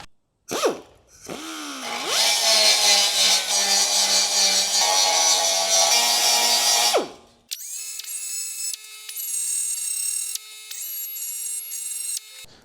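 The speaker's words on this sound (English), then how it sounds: "Just removed a little bit of material with that burr" Air-powered burr grinder working a Ford Cortina body panel during restoration, a loud sustained high-pitched whirring grind for several seconds, then a brief stop and a series of shorter bursts of pneumatic whine close by.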